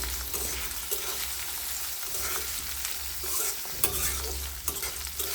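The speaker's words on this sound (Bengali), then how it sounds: "তো পেঁয়াজটা হালকা ব্রাউন হওয়া পর্যন্ত আমি এটাকে ভালোভাবে ভেজে নিই" Onions fry in hot oil until light brown for a home-style spicy chicken bhuna, with a steady sizzle and occasional stirring scrapes of a spoon in the pan, close and continuous with no talk.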